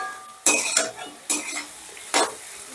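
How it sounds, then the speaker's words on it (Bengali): Potato and eggplant curry with gram flour being stir-fried in a pan, three distinct scraping stirs of a spoon against the pan over a soft background sizzle, close and loud. "এবার এটাকে আমি 2-3 মিনিটের মতন বেশ ভালো করে কষে নিচ্ছি।"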